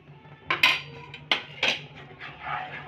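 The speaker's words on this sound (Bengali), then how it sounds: "ভালো করে মিশিয়ে নেব।" A spoon scraping and clinking against a pan while homemade tomato sauce is mixed with red chilli powder, several sharp metallic knocks and scrapes close by, with no talking.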